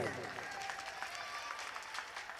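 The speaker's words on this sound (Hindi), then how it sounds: "आपके लिए भी एक बार भरपूर तालियां बजाइए" Applause from the crowd at a mushaira poetry gathering in a small town, a short, steady patter of many hands clapping, heard faintly from a distance.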